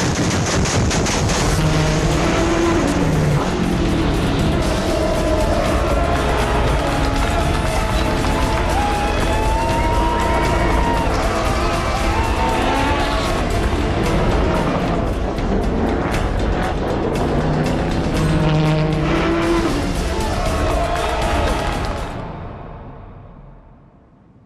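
Drag racing cars roar continuously as they accelerate, loud and close, engine notes rising and shifting with sharp crackles over about twenty seconds before fading out abruptly at the end.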